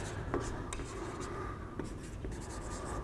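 Chalk or marker strokes scratch across a board during a Class 11 physics lesson on thermodynamics, a steady run of short scraping marks with brief taps, close and fairly quiet under faint room noise.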